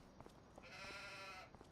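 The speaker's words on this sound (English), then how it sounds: "random sheep" A sheep bleats once in Farming Simulator 25, a drawn-out wavering cry lasting under a second, moderately close over quiet ambient game sound with a few soft knocks around it.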